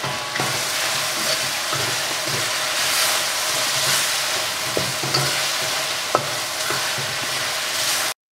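Three Cup Chicken sauce simmers uncovered in a pan, giving a steady, loud bubbling sizzle that runs unbroken for about eight seconds, with occasional small pops and spatter at close range.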